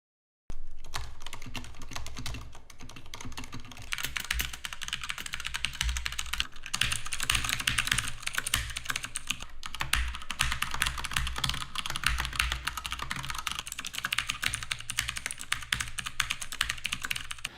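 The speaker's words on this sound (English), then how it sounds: "The one that I'm using right now has blue switches, which provides a nice tactile feeling and a clicky sound" Steady, continuous typing on a Motospeed GK82 wireless mechanical keyboard fitted with clicky blue switches, a dense run of sharp close-up key clicks and clacks heard alone for about seventeen seconds.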